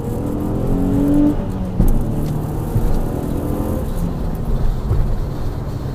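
A 2007 Nissan 350Z high-rev model accelerates hard in a pull on a drying road, the engine droning steadily loud from inside the car with a brief shift-like dip.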